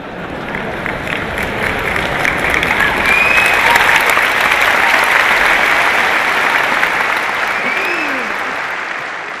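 Audience applause from a large crowd at a talk, a dense wash of clapping that swells toward the middle and slowly fades, loud and continuous with no speech over it.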